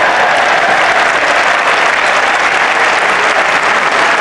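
Cricket crowd at a 1981 Ashes Test in England applauding a well-struck stroke, loud, continuous clapping from a large stadium audience with no commentary over it.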